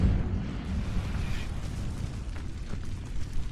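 A fire spell bursts into flame against dry vines in a video game, a steady roaring whoosh with low rumbling crackle that holds loud and fairly constant throughout, with a few soft pops near the end.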